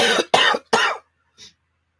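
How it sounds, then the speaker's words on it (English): Three close, forceful coughs from a nearby adult in quick succession, followed by a brief faint sound at the end; no talking. "Sorry about the cough."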